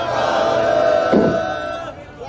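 A crowd at a Sikh tug-of-war competition in Guru Nanak Park, America, roars a jaikara battle cry together, a loud sustained collective shout that swells and fades over a couple of seconds.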